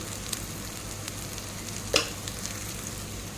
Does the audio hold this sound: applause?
no